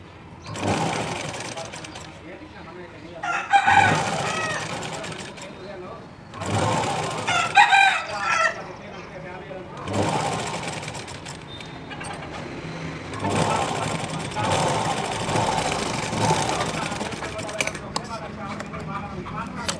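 A sewing machine runs in repeated stretches while stitching a dress. A voice talks over it and a rooster crows in the background.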